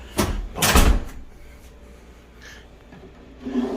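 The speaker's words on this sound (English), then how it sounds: "Got your little drawer." A small drawer is pulled open inside an RV, two short, close sliding thumps at the start followed by quiet room tone, soft breathing and a faint rub near the end.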